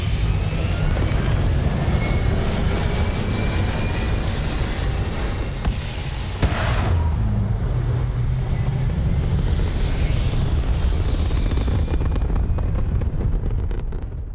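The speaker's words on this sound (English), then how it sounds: "All thrusters firing." Spaceship thrusters firing in the video game Starfield, a deep continuous roaring rumble that holds steady and swells briefly midway, with no voices.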